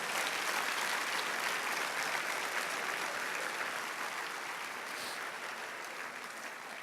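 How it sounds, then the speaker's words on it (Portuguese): Sustained applause from a church congregation at an evangelism conference, a dense steady wash of many hands clapping that fades slightly toward the end, with no voices over it. "Se é para o Senhor Jesus, aplauda."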